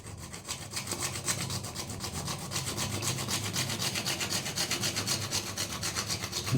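A hand saw cutting through a water pipe with steady, rhythmic back-and-forth strokes, close and continuous, with no voices.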